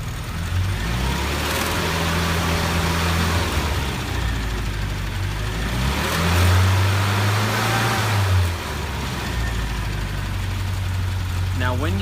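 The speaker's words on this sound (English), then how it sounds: "I'm going to give it some throttle here" A car engine idles with a steady low rumble, then revs up as the throttle is applied around the middle before settling back to idle, close and loud, with a person talking over it.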